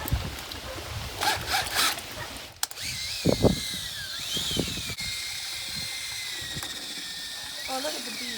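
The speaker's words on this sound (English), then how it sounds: "it's just the cordless drill with a paint mixer paddle on there." A cordless drill fitted with a paint mixer paddle whirs in bursts while stirring honey bee feed, with people talking nearby and scraping handling noises around it.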